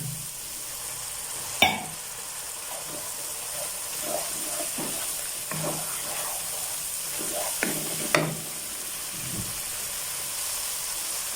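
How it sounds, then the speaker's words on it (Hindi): Water is poured into frying masala with cumin for fried cauliflower, giving a steady soft sizzle and hiss with intermittent sharp clinks and scrapes of stirring, heard alone. "थोड़ा सा पानी शामिल करेंगे।"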